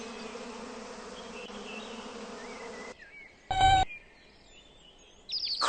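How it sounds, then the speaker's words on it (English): Bees and other insects buzz steadily in spring, a continuous close drone that fades out midway, with brief bird-like chirps and beeps afterward. "Bees and other insects come out too."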